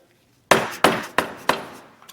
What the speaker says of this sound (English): just whack on it with a hammer a little bit and tap it up